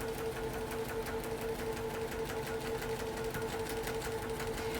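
A JUKI sewing machine stitches a quilted kitchen mitt, running a fast, even mechanical hum and rapid needle clatter that stays continuous and close for several seconds.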